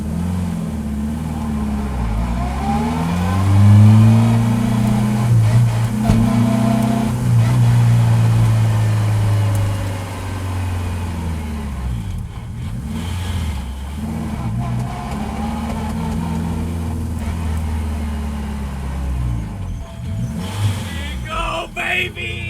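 Engine of the Koyorad K20-powered Acura NSX time attack race car pulling in after a lap at the Global Time Attack Finals: a loud, close engine note rising and falling through revs, with brief voices over it.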